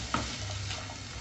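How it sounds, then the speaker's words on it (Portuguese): Chopped onion sautés in a pan for a creamy hot dog sauce, giving a steady low sizzle with faint stirring scrapes, continuous and close, with no talk. "Vou deixar essa cebola refogar por uns minutinhos, até ficar levemente dourada."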